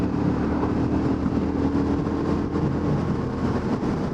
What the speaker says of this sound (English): Revs might be up there a little bit, but I guess that's typical of a low displacement motorcycle.